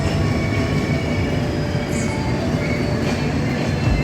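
A passenger train rolls along the rails in India with a continuous loud rumble and rattle, faint squealing wheel tones running through the steady roar.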